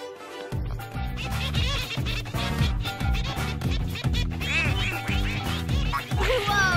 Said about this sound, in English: Poor Mama Duck. Her babies won't stay in line